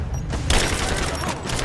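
Rise of the Tomb Raider gameplay erupts with a dense burst of gunfire and explosions; a loud blast lands midway and rapid shots continue close and constant, with no talk.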